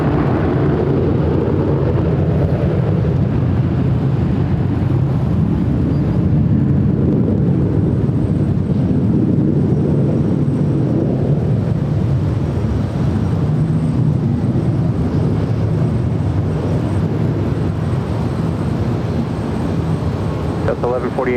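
A jet airliner roaring on the runway at Los Angeles International Airport, a loud sustained low rumble that swells and holds, heard from a spotting position.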